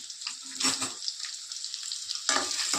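Curry cooking in a pan, a fairly quiet hiss that swells into louder bursts of sizzle or splashing twice, with a softer crackling wash in between.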